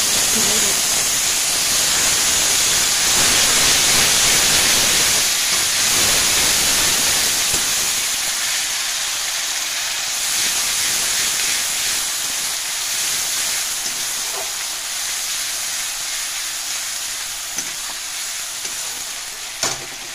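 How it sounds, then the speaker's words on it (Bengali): Onion paste with black cumin frying in hot oil, a loud, dense, steady sizzle close by, with occasional stirring scrapes, easing slightly in the second half. "এটাকে ভালো করে ভেজে নিতে হবে।"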